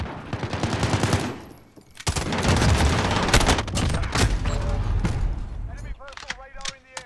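Automatic gunfire in Modern Warfare Warzone rattles in a loud, rapid stream, stopping briefly before a long close burst, then giving way to a voice speaking at the end.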